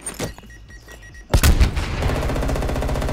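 Video game gunfire in a first-person shooter, a sudden loud burst followed by rapid automatic fire rattling on steadily.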